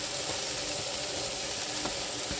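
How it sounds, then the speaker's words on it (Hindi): Spring onion frying in oil in a frying pan gives a steady close sizzle with a few soft clicks and pops throughout. "आतां आमी फ्रायींग पॅनाक स्प्रिंग ऑनियन फ्राय करून घेवपाचे"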